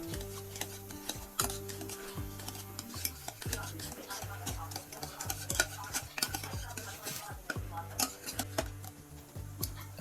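Ladle stirring and mashing pressure-cooked dal in a pot, giving quick, repeated clicking scrapes and taps against the metal in an uneven rhythm, fairly faint and close.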